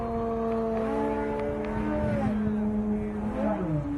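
A radio-controlled model airplane flies level across a field. Its motor gives a steady mid-pitched drone that bends in pitch as the plane passes, with a faint voice heard underneath.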